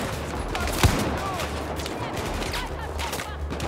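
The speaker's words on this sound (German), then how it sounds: "ich werde ordentlich beschossen von allen Seiten." Dense gunfire in the video game Battlefield 4, shots coming from all sides as a continuous fusillade of rapid bursts, with one louder nearby shot standing out early.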